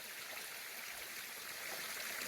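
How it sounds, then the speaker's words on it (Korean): A mountain stream flowing past wild greens on a forested slope, a steady, soft rushing of water heard alone and evenly throughout. "물소리를 들으면서"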